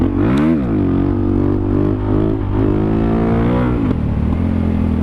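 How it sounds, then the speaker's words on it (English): A Suzuki DRZ400SM supermoto single revving hard in second gear to lift a wheelie, engine note climbing, dipping and surging again in close, loud pulls with rising whine and clatter. "second gear along here, sit back in that seat, give it some revs"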